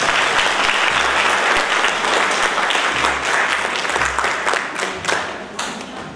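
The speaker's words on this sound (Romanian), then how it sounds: "aș vrea să vă rog împreună să-l aplaudăm pe primarul municipiului Petroșani" Loud, sustained applause from a large audience at a Family Day event in Petroșani, Romania, a dense wash of clapping with a low rumble underneath.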